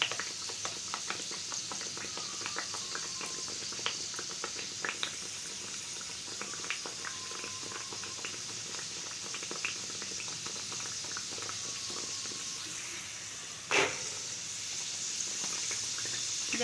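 Dal puri fries in hot oil with a continuous bubbling crackle full of small popping spits, heard close and fairly quiet, plus one sharper clatter partway through.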